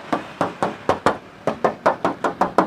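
Knuckles rap a 2004 Suzuki Futura Realvan DRV van's rear metal body panel in a steady series of about eleven close, hollow knocks, with no talk over them.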